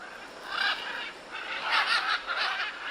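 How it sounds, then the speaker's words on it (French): Noisy exotic birds in Honduran tropical forest give a series of harsh, squawking calls in bursts, fairly close and loud against steady background forest noise. "Ils sont joyeux, bruyants et font partie des oiseaux les plus intelligents au monde."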